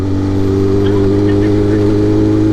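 A big bike motorcycle engine hums and revs steadily up close during a habal-habal passenger ride, a loud, continuous drone with a faint voice in the background.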